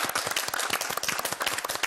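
An audience at a Tatar song show claps together in a dense, lively burst of applause that stays loud and steady from start to finish.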